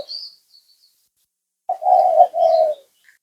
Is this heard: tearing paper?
no